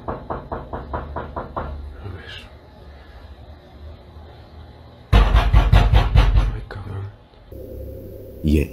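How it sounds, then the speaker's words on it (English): Rapid knocking on a front door, a fast run of sharp raps close by, followed by a quiet stretch and then louder thumping and rattling. "he immediately hears some knocking coming from his front door"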